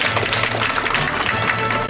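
An audience at a health event for a pediatric care program applauds steadily, a dense continuous clapping from the crowd with no voices over it.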